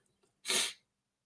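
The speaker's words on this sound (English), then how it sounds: "I'm going to sneeze, so excuse me." A single sharp sneeze bursts out after a brief quiet breath, close and fairly loud, then silence follows.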